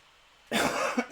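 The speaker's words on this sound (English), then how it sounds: "That was my cough" A single sharp cough bursts out after a brief quiet moment, close and fairly loud, with no talking.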